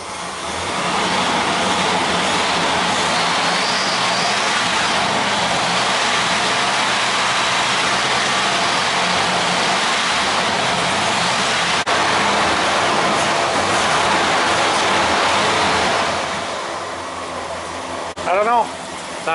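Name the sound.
1978 Mercury Marquis engine revving and bogging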